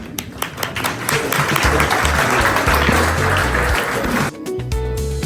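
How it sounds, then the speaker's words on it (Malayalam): Loud, dense applause from a crowd at a wedding ceremony fills the room, sustained for several seconds, then drops briefly and resumes a little softer. "സഹോദരൻ സിബിനെയും കയ്യടികളോടെ നമുക്ക് വേദിയിലേക്ക് സ്വാഗതം ചെയ്യാം."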